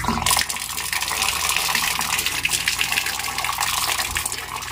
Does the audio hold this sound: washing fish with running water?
yes